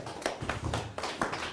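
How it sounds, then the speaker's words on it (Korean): Congregation at a Pilgrim Church seminary gathering clapping together in a loose, irregular rhythm, a few sharper claps standing out over a steady low hum in the room. "하나님께 영광의 박수를 올리겠습니다."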